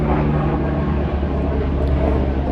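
A low, droning helicopter engine rumble overhead on a helicopter route above Alto da Lapa, steady and fairly loud with a constant hum.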